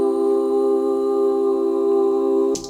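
A stacked harmony chord plays from a piano roll, several sustained notes held steadily together for about two and a half seconds before cutting off, with no voices over it.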